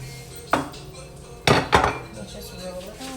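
A spatula scrapes and knocks against a pan while tossing chicken sprinkled with Parmesan, one sharp clank followed by a pair of louder metallic scrapes, close and distinct over a quiet background.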